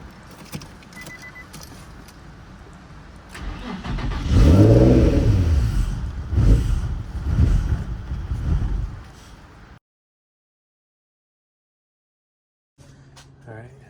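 A Nissan 350Z-type VQ engine in a G35 cranks, catches and revs, rising to loud, surging throttle blips, then falls silent; after a pause the engine idles again quietly. Keys jangle early on.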